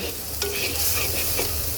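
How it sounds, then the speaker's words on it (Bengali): Chopped onion sizzles in hot oil in a pan, a close, steady frying hiss with a brief stirring scrape, no voices. "পেঁয়াজটাকে খুব সুন্দর করে ভেজে নিতে হবে"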